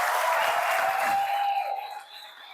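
A church congregation claps for a visiting pastor, a brief burst of applause that thins and fades within about two seconds.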